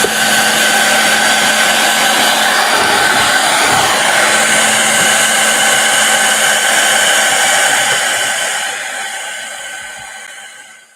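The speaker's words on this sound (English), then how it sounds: "We'll take the blow dryer." A blow dryer runs continuously at close range with a loud, steady whooshing hum, used during a one-stroke flower painting session, and its sound fades out near the end.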